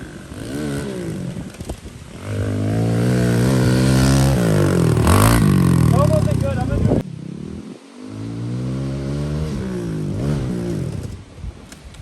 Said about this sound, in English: So I'm letting Adam take the Kawasaki out